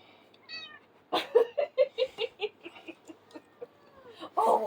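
A pet cat meows close by in a quick series of about a dozen short, insistent cries, preceded by a brief chirpy trill and ending with a louder, longer meow.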